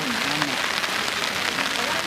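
Heavy rain pours steadily over a flooded residential area near Chennai, a dense, even hiss of drops on surfaces, with a voice talking over it throughout.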